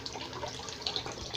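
Water from a tap runs steadily for a moment to rinse a razor during a wet shave, a continuous close splash with a couple of brighter spattering bursts and no talking.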